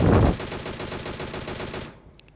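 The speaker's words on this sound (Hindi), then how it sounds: "लेकिन हमने फायरिंग शुरू कर दी" Gunfire in the mobile battle-royale game PUBG Mobile: a loud, rapid automatic burst with a strong opening shot, continuing as steady fire for about two seconds before cutting off to near silence.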